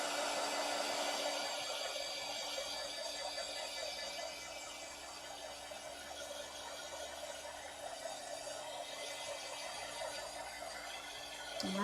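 A hair dryer blows steadily up close for several seconds over wet paint, a constant loud whirring roar with no talking.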